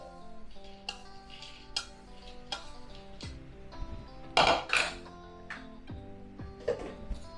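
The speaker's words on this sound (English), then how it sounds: "go ahead and add the rest of the peanut that I have left in the bowl" Leftover peanuts tipped from a bowl into a blender while making homemade peanut butter, giving scattered light clinks and ticks with a brief louder clatter of nuts landing midway, close and without talk.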